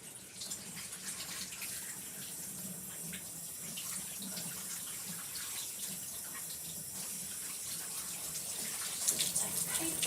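Tap water runs steadily through a metal cake piping nozzle to rinse it clear, a continuous hissing gush at close range with no talk.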